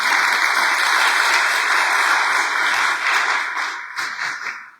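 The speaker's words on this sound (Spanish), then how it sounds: "Démosle un aplauso al Señor" A church congregation applauds during a sermon, a loud, dense wash of clapping that holds steady, then thins toward the end with a few separate claps.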